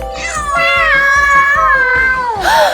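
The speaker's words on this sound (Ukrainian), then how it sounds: "Кіт" A loud electronic meow from a Furby toy, one long wavering cat call that slides downward at the end, close by.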